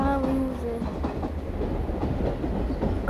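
Train running in an Indian train simulator game, a loud continuous rumble with rhythmic clickety-clack of wheels over rail joints and a brief whistle-like tone at the start.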